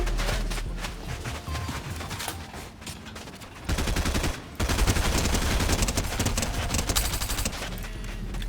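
Rapid-fire gunshots from a fast-shooting weapon in the video game Fortnite, a dense, loud, continuous burst of shots that grows heavier and more intense partway through.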